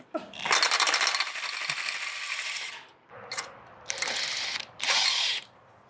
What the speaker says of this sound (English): let's remove as many bolts as we can